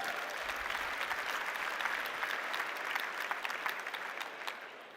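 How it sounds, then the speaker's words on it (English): Sustained audience applause from a conference crowd at Slush 2022 in honour of venture capital firms, a steady even wash of clapping at moderate level with no talk over it. "Let's give a round of applause for them."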